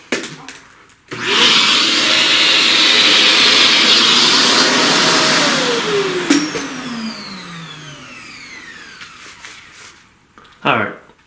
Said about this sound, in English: Vacuum.